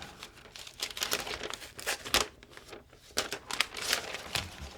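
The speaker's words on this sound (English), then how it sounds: "I'm just going to tear it off" Plastic packaging on a Mac Studio and keyboard box gets torn and crinkled off by hand, a close, irregular run of sharp rustling tears and crackles.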